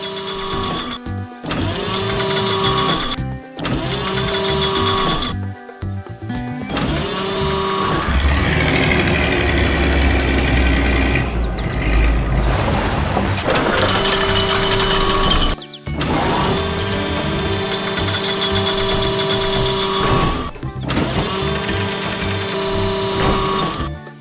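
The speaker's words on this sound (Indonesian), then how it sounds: "Mesin kuning dan mobil perak bekerja dengan cepat" A cartoon yellow machine and silver car at work make a busy, continuous mechanical whirring and clattering, with rhythmic pulsing passages, a denser rumbling stretch in the middle and a few abrupt cutoffs.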